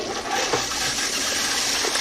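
Toilet flushing test waste during a toilet performance test, a loud close rushing gush of water that continues steadily throughout, with no talking.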